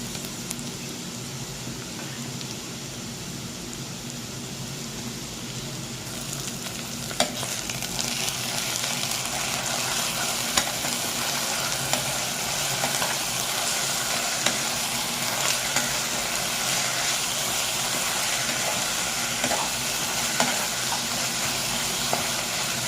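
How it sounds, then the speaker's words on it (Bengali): Ginger, garlic and green chili paste sizzles steadily in a hot pan, the frying hiss growing louder and denser partway through, with occasional stirring clicks and no talking. "ভাজা হয়ে এসছে এর মধ্যে এবার আদা রসুন কাঁচা লঙ্কা বাটা দেবো"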